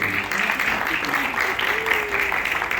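A crowd applauds steadily, a continuous wash of clapping that holds at an even level throughout.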